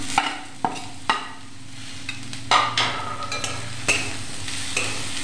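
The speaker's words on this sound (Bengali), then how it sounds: "এবার একটু ভালো করে ভেজে নেব।" Potatoes, onion, green chilli and ginger frying in a pan, a continuous close sizzle broken by repeated sharp scrapes and knocks of a spatula stirring.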